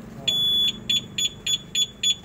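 A two-way motorcycle alarm emits loud, sharp electronic beeps while its sensitivity is being set: one long tone followed by five short, evenly spaced beeps, close and clear, with a voice speaking in the background.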